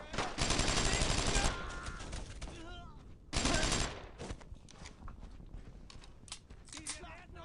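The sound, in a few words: enemy gunfire in video game Brothers in Arms: Road to Hill 30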